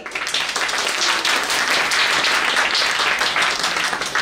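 A school-show audience of parents claps steadily, a dense continuous wash of applause from many hands held at full strength throughout, with no talk over it.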